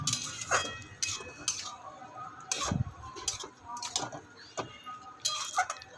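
Bottle gourd and fried prawns are stirred together in a pan, giving intermittent metallic clinks and scrapes of a utensil against the pan, spaced irregularly and fairly quiet, with no one talking.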